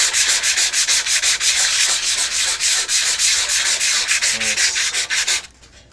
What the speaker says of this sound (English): Definitely leaving scratches in it, but I can smooth that out with some less aggressive sandpaper.